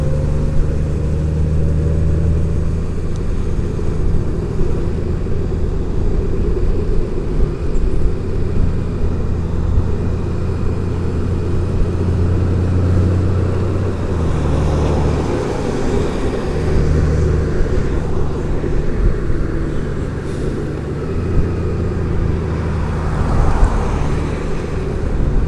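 Steady road and traffic rumble while riding a 2018 Honda Goldwing DCT, a constant loud engine and wind drone with passing vehicles blending in, no talking.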